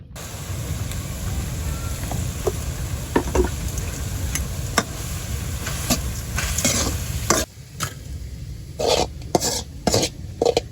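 Leafy greens frying with small icha river fish in hot oil give a steady sizzle, broken by clinks and scrapes of a stirring utensil against the pan that grow sharper near the end.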